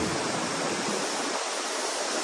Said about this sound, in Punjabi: ਬੜਾ ਸਪੀਡ ਨਾਲ ਪਾਣੀ ਆਉਣ ਡਿਆ